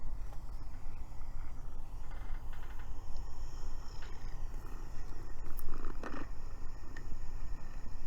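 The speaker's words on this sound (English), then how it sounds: "she purrs so loud" A pet cat purring loudly right up close, a deep rhythmic rumbling pulse running continuously throughout, with no talk over it.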